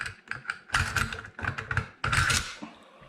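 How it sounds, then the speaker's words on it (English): Bolt and carrier being fitted back into a Romanian RPK rifle: a quick series of close metallic clicks, scrapes and clacks of steel parts sliding together, with a sharper slide near the end. "Put in your bolt and carrier."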